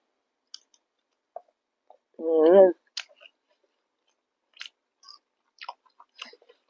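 Someone eats rice with Thai sour curry (gaeng som), making soft, sparse chewing clicks and mouth sounds close up in a quiet room, broken once by a short hummed voice.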